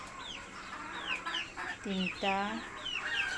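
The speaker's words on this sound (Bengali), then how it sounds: "আমার ছোট্ট বারান্দায় আমি কিছু দেশি মুরগি পালন করি" Native chickens kept on a small home balcony cluck and squawk in quick, close bursts, with a voice briefly speaking among them.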